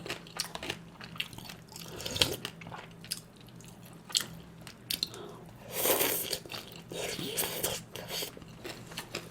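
Crunchy bites and chewing of cubed radish kimchi (kkakdugi) at a sundae gukbap meal, close and fairly quiet, with repeated crisp crunches clustering around the middle and end, no talking.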